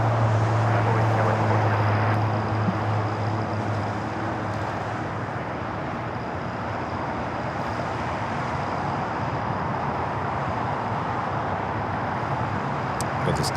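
Distant airliner noise at Los Angeles LAX, an American Airlines flight arriving from Dallas Fort Worth, makes a broad steady roar lasting throughout, with a low hum early on and no talk.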